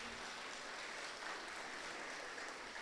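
Audience clapping for a stage performance at a Rhythm Arts anniversary event, a soft, steady patter of hands heard from a distance for a few seconds.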